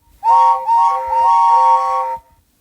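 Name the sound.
steam engine whistles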